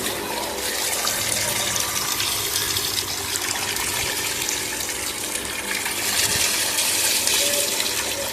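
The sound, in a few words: dirty drainage water flowing from a tap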